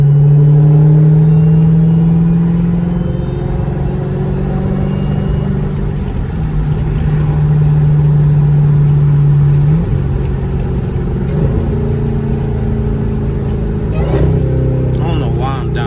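Dodge Durango Hellcat V8 engine at night, droning loud and steady under acceleration with pitch rising and dropping as gears shift down and up, heard from inside the cabin.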